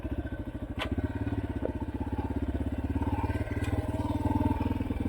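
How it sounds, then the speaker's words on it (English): Motorcycle engine idling steadily at about 1200 RPM, a close, continuous low throb with even pulsing throughout and a faint clatter. "RPMs, it still sounds high, but 1200's right."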